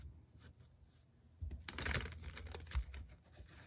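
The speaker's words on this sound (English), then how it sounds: "let's do some shuffling and pull four tarot cards for the day" Tarot cards are shuffled by hand, a soft riffling and crisp flapping that grows louder and busier in the second half, with faint background noise throughout.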